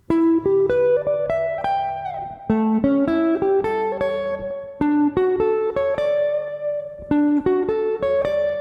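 A plucked guitar rolls through broken chords, one note after another in a steady rhythm, each phrase ringing out clearly and close up.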